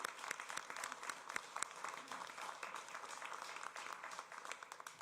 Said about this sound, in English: let's give a round of applause for stepping up today